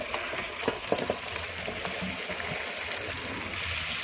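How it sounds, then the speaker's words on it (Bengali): Chicken pieces stir-frying with chilli, turmeric and Kashmiri chilli powder for a kosha curry, heard as a continuous close sizzle broken by a few scraping stirs near the start. "ভালো করে কষিয়ে নেব"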